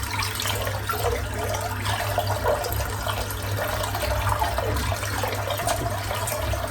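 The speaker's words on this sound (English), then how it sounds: "Just rinse the sink out." Water runs steadily from a tap into a bathroom sink being rinsed after a wet shave, a continuous close splashing wash with no talk.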